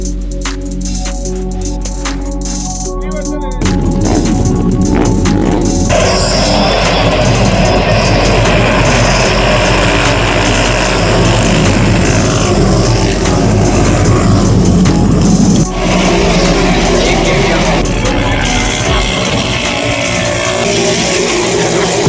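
Royal Enfield Continental GT Cup race motorcycle at a motorsport track, a loud, broad engine roar that builds and holds for a long stretch, with a sharp shift partway through as the machine passes.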